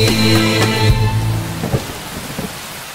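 Heavy rain and rolling thunder in a children's sung story, a loud steady downpour with deep rumbles, and a tonal musical hum that fades out in the first half.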